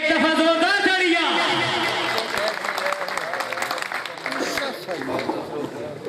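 An audience at a mushaira poetry gathering in Chakwal breaks into applause, a dense burst of clapping with crowd chatter that follows a raised speaking voice at the start.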